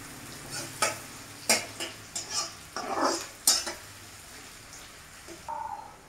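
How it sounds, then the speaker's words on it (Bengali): Chopped onions fry in a pan for ghugni while a spatula stirs and scrapes in several sharp, separate strokes over a faint sizzle, with no talk. "এবার আমি পেঁয়াজটাকে ভালো করে ভেজে নেব।"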